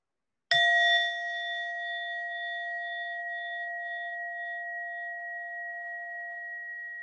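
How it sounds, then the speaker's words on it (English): A meditation bell is struck once and rings out clear and close, its bright tone holding steady and slowly fading over several seconds in an otherwise quiet room. "in a moment, you're going to hear the bell again"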